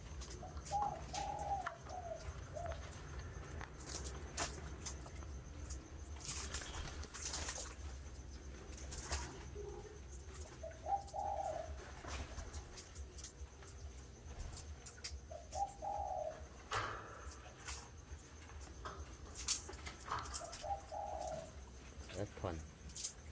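A tame caged bird coos in short, evenly spaced phrases about every five seconds, near and clear, over a hissing room background with occasional clicks and faint talk.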